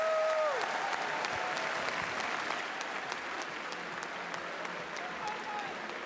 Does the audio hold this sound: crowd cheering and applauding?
yes